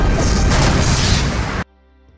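Missile launches and answering interception fire in a naval battle scene from a film, Japanese ship defending itself: a dense, loud burst of booming blasts and crashing noise lasting about a second and a half, then cutting off abruptly.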